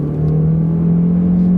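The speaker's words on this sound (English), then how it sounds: "Ooh, it spun the tires." A small car accelerating from a stop with its tires spinning, heard from inside the cabin as a loud, steady, rising engine drone that builds over a short stretch.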